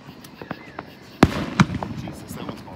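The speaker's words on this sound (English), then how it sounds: "Awesome fireworks, by the way." Fourth of July fireworks go off nearby, with two sharp loud bangs and several smaller pops and crackles spread over a few seconds.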